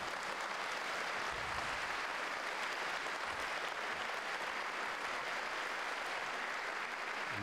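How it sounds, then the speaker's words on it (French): Steady, faint audience applause fills a hall at a cheque presentation for the Ligue contre le cancer, a continuous wash of many hands clapping heard from a distance. "Alors pour eux, je pense qu'on peut les applaudir vraiment très très fort."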